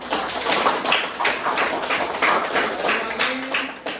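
A classroom bursts into steady, close applause, many hands clapping together in a dense rolling wash that holds throughout, while a voice speaks briefly over it.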